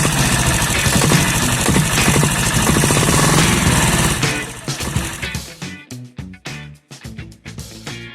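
A Royal Enfield Taurus 325cc diesel Bullet, a rebuilt 1997 bike, runs with a loud, dense, rapid engine rumble that breaks after a few seconds into uneven, chugging pulses as it slows.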